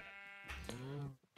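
Sheep bleat in Minecraft, a single wavering, nasal bleat rising and falling for about a second, close and clear, followed by a short thump.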